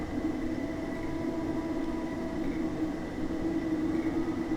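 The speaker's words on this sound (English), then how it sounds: "there's a train creeping through the wash there" Slow train rolling through a wash area near Stewart's Lane in Train Simulator, with a Class 73 electro-diesel nearby; a steady, continuous low rumble and hum holds at an even level throughout, with no talk.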